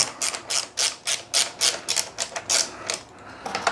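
Hex screws are worked out of the brake on a Kukirin G2 Master electric scooter, a fast run of sharp metallic ratcheting clicks close up, with no voices.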